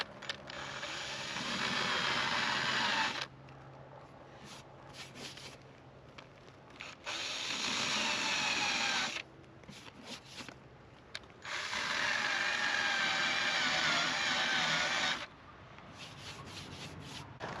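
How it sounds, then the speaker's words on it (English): A decal eraser wheel on a power tool grinding old pinstripes off a car's paint, three long loud rubbing whirs separated by short pauses, close up and steady during each pass. "we're just going to go straight to the eraser wheel, run it across there, and see if it removes it"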